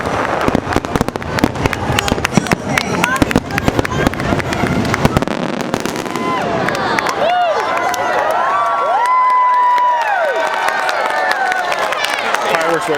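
Fireworks at a Disney World Christmas party crackle and pop in rapid close bursts, with a crowd cheering and children shouting throughout, and a few whistling rockets rising near the end.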